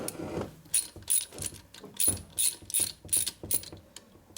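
A ratchet clicks rapidly as the oil pump bolts come off an Indian Scout motor, about eight short bursts of clicking with brief pauses between them, close up and fairly quiet.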